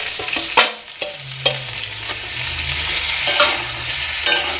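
Ground mustard paste and green chilli paste sizzle in hot oil with bitter gourd, a loud, close hiss of frying broken by a few stirring scrapes and taps.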